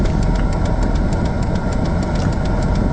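1984 Volvo 740 GLE engine idles after a cold start, a loud, steady rumble with a rapid even ticking pulse running through it, heard up close with no voices.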